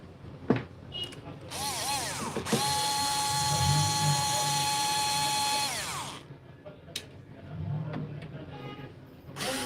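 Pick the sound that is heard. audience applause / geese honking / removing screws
removing screws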